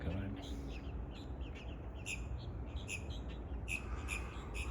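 Birds chirp and tweet outdoors near an orchard, short bright calls repeating over a constant low background rumble, with a voice speaking faintly.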